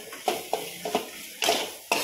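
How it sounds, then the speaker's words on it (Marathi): Spoon scraping and clinking in a pan while vegetables are stirred and mixed with coriander and cumin powder for a village-style Maharashtrian vegetable dish, a few close, uneven scrapes and knocks. "सगळं आता मिक्स करून घ्यायचं."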